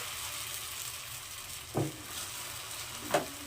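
Semolina batter fries in a little oil in a pan with a quiet, even sizzle, broken by two brief knocks of a utensil.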